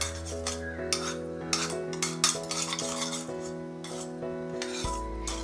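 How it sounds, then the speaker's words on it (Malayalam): A spoon stirs and scrapes a sugar and vinegar mixture for Gobi Manchurian sauce in a bowl, making repeated close, clinking and rasping strokes with no talk. "ഇനി നമുക്ക് ഇതെല്ലാം കൂടി ഒന്ന് മിക്സ് ചെയ്തെടുക്കാം."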